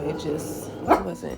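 A pet dog lets out a sharp bark near the middle, with a few softer yips around it, heard close by under someone speaking indoors.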